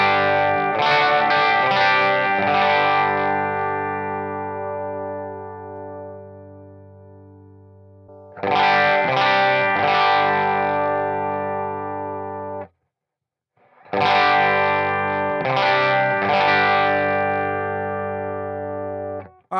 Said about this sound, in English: let's just see what happens if we dime the mid-range on this amp.